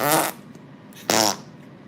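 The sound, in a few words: Flarp noise putty toy making fart sounds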